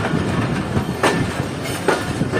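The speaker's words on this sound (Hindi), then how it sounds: "तो पूरे 6:35 पर ट्रेन हमारी एंटर हो रही है हैदराबाद जंक्शन रेलवे स्टेशन पर" Shah Latif Express train rolling into Hyderabad Junction station, a steady loud rumble of wagons with periodic clanking wheel-on-rail transients spaced about a second apart, no voices.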